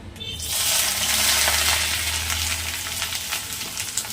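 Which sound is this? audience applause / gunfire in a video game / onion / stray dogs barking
onion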